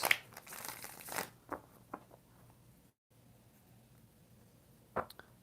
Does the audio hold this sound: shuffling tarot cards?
yes